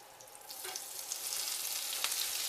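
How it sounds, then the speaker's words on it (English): Onions and cabbage hit a hot frying pan and sizzle steadily, a close, bright hiss that swells slightly as the cooking settles in, with no talking. "You hear that sizzle?"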